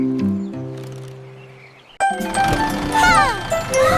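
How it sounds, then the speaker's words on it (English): Cartoon bells ring ding in a children's nursery rhyme song: a held musical tone fades out, then bright jingling, tinkling chimes burst in over lively music and stay loud to the end. "the bells went ding"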